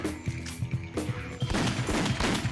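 Rapid bursts of gunfire from a first-person shooter game, running through a launcher build, crack out in fast, uneven volleys that grow denser and louder partway through over steady game background sound.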